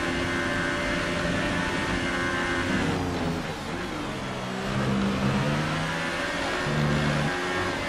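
A Formula 1 car engine in the F1 2018 racing game at the Spanish race revs loudly and continuously, the pitch rising and falling through the gears with no talk over it.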